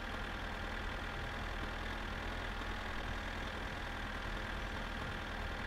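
A tractor towing a hitched trailer in My Summer Car runs with a steady, droning engine rumble, constant and fairly loud throughout, with no talking over it.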